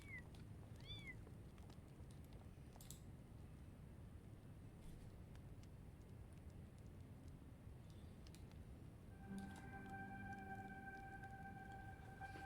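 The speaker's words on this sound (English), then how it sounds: "Oh, I got baby kittens." Baby kittens meow in a video game, a few thin high mews near the start over a quiet, hissy background, followed later by a sustained electronic tone.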